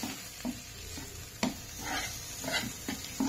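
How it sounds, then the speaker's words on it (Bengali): A spoon stirs raw mustard oil into a ground paste, soft wet scraping strokes with a few sharper knocks against the bowl, close and unhurried, without voices. "এটাকে দিয়ে জাস্ট একটু নাড়বো, বেশি না, অল্প একটু নাড়বো"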